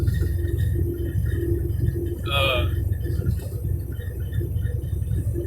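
An old truck engine fitted with 10-inch exhaust stacks rumbles steadily and close by, a low continuous drone with a brief higher whir partway through.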